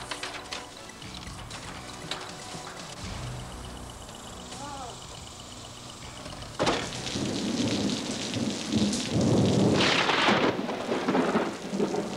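A summer thunderstorm: steady rain patters throughout while a long rolling rumble of thunder swells and grows heavier in the second half, and brief voices are heard in the background.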